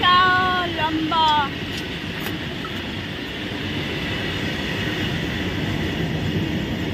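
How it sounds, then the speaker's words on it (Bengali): A very long train rolls past with a sustained, even rumble of wheels and carriages, opening with a brief horn blast and a few sharp squeals before settling into a steady roar. "ট্রেনটা যাচ্ছে। দেখো কত বড় ট্রেন, এই বিশাল লম্বা।"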